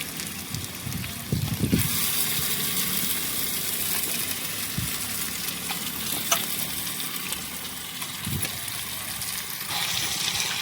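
Marinated chicken sizzling and frying in a pan for chicken curry, with steady close frying hiss and intermittent scraping and stirring knocks throughout.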